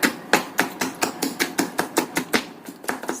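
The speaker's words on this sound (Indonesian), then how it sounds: "Kemudian kita cincang halus." A knife finely chops shrimp on a cutting board in quick, steady strokes, about a dozen sharp knocks in a few seconds, close and alone.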